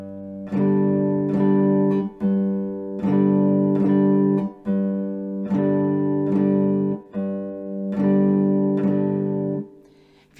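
Three-string guitar plays a low bass note on the thickest string followed by two strums on the other beats, a close, steady repeating three-beat pattern played alone.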